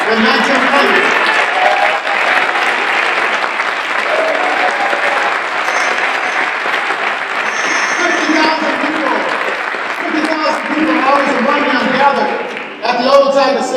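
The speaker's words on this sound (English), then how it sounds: "let us have a very warm applause for the spirit and for the legacy of Nelson Mandela" A rally crowd at a Detroit MLK Day march for jobs, peace and justice gives a long, warm ovation in honor of Nelson Mandela's legacy. Loud, dense clapping continues for the whole stretch with some voices mixed in.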